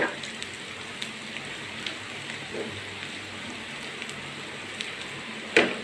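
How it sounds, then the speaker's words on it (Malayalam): Heavy rain falls steadily as an even, dense hiss, with scattered louder drops and a sharper splash or tap near the end. "മഴ വീണ്ടും കനക്കണുണ്ട്"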